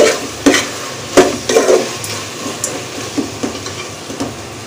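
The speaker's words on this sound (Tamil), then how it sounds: "1/2 tablespoon அளவுக்கு இஞ்சி பூண்டு பேஸ்ட்டு சேர்த்துக்கிறேன். சேர்த்துட்டு இதை ஈவனாக மிக்ஸ் பண்ணி விட்டுக்கிடலாம்." Ginger garlic paste stirred and frying in a pan over a low flame, with a steady sizzle broken by several distinct scraping stirs of a spoon against the pan, fairly loud and close, with no talking.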